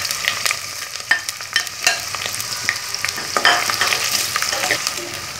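Garlic and onions fry in oil, a steady close sizzle broken by repeated scraping and stirring clatter from a spoon in the pan, with no talking.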